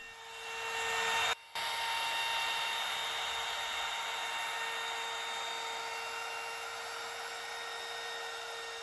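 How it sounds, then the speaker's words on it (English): A woodworking router with a 1/4 or 1/8 inch radius roundover bit whines steadily while edge-detailing a wooden coffee table, with one brief dip near the start and then a long, loud, even run. "This is just done with a 1/4 inch or a 1/8 inch radius roundover bit."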